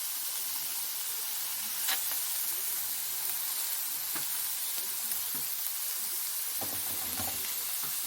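Shrimp and other seafood sizzle steadily on a hot grill, a constant close frying hiss with a few soft clicks and stirs and no talking.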